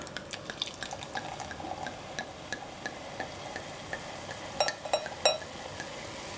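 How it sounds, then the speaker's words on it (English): A drink is poured into a glass, a quiet stream with soft fizzing, scattered drips and small clinking ticks, a little louder near the end. "And you guys can watch me pour."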